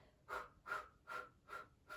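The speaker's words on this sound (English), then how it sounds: "If you can, it's inhale through the nose, exhale through the mouth." Quiet, close breathing during a foam roller workout, drawn in through the nose and out through the mouth in five evenly spaced breaths, each rising and fading alone.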